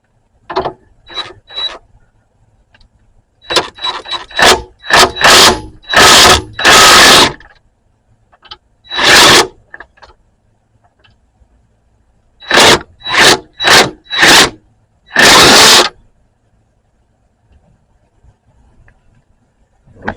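Hand tools working on the front end of a 2007 Jeep Compass, loud close bursts of ratcheting and mechanical clatter in separate rhythmic runs with quiet gaps between them.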